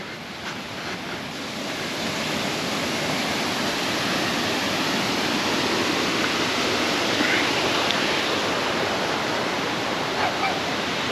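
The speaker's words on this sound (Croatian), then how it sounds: "Vodopadi." The waterfalls at Janjske otoke near Šipovo pour in a dense, unbroken roar of rushing water, loud and close, holding steady throughout with no other sounds above it.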